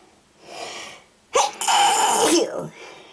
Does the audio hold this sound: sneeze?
yes